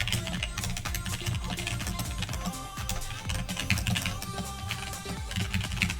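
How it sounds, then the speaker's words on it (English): Loud mechanical computer keyboard typing, a dense, continuous rapid clatter of keystrokes heard up close with no pauses. "Sorry for the horribly loud keyboard."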